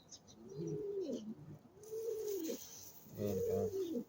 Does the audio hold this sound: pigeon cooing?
yes